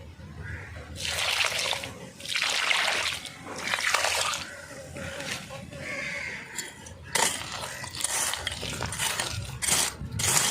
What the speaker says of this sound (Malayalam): ഇത് നമ്മുടെ ഗോൾഡൻ പപ്പായരെ ചോട്ടിലേക്ക് ഇനി നമുക്ക് വളം ഒഴിച്ചു കൊടുക്കാം